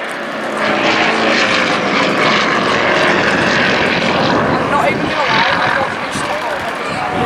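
A fully aerobatic propeller aircraft at the Blackpool Airshow makes a loud, steady engine roar throughout, close and continuous, with a voice talking over it.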